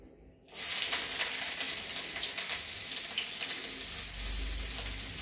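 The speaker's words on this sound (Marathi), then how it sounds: "कढईत तेल टाकलेलं आहे, त्याच्यामध्ये आपण बारीक चिरलेला कांदा" Finely chopped onion drops into hot oil in a kadhai and bursts into a loud, steady sizzle after a brief quiet start, crackling evenly throughout with no voices.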